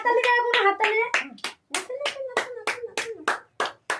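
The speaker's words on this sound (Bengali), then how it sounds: "হাততালি দাও, কোনো হাততালি দে।" Family members clap by hand at a child's first birthday celebration, a string of close, sharp claps in an uneven rhythm mixed with voices talking and singing.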